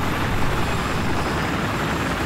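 A steady, dense rotor-and-engine roar of a helicopter in the video game Battlefield 4, constant and fairly loud throughout with no talking.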